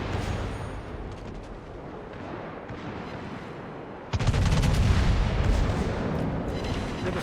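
A World of Warships battleship's main guns fire in a heavy, booming salvo that bursts in loud and deep after a quieter rumbling stretch of battle noise. No one speaks.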